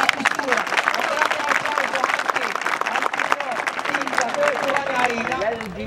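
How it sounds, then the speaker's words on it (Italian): Crowd at an outdoor Eid celebration marking the end of Ramadan claps steadily, a dense, lively patter of many hands with voices and babble mixed through it, moderately loud throughout. "Un applauso all'autorità dalla questura."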